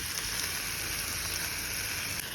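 Tuna pieces frying in spiced oil with chopped tomato and ginger-garlic paste, giving a steady, dense, close sizzle that holds evenly throughout with no talking.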